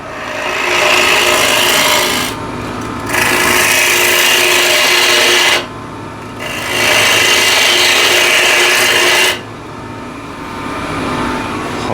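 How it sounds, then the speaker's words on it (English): A spindle gouge cuts a yew wood box on a lathe, producing loud continuous scraping bursts separated by short pauses, close and alone. "So again, spindle gouge."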